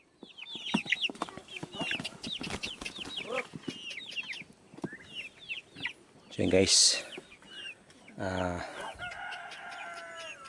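Free-range Sasso chickens cluck busily nearby while a rooster lets out a loud crow midway, with someone speaking intermittently over the flock.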